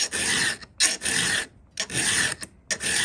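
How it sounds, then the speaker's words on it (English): A round hand file sharpens the cutters of a chainsaw chain up close, making loud raspy scraping strokes in a steady rhythm, each lasting about half a second with short silent gaps between strokes, no talking. "because it's the first filing, we don't have to get too aggressive with our down pressure"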